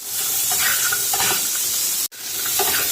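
Spiced chutney with panch phoron, turmeric, chilli and salt is stirred in a frying pan. It gives a steady loud sizzle and hiss with soft scraping, cut off by a brief gap near the end.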